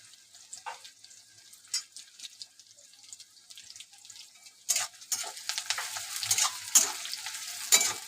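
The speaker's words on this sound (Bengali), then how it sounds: "পেঁয়াজটা আমার একটু হালকা ভাজা হলে আমি এক এক করে সব মশলা দিয়ে দেবো।" Onion fries in a pan for mutton kasha, a quiet sizzle with occasional clinks at first, then growing busier and louder as stirring scrapes and crackles pick up.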